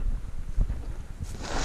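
Strong wind buffets the microphone outdoors during a bird hunt with a pointing dog, a steady low rumble with gusts that swell louder toward the end.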